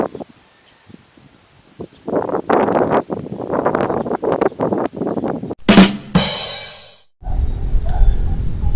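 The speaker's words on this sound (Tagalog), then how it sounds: "Malakas po yung hangin." Strong gusts buffet the built-in mic of an Akaso Brave 7 LE action camera, wind noise reduction on, outdoors: uneven rumbling bursts swell and drop, peaking in a harsh roar near the end before settling to steady low buffeting.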